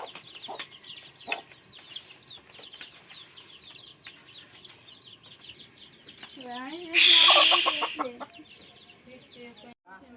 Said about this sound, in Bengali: সব মুরগিরাও বাসায় চলে আসছে